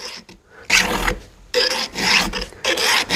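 Steady back-and-forth rasping of a 7/32 round file across a chainsaw chain's cutters during sharpening, three distinct strokes in a row, close and fairly loud with no talking.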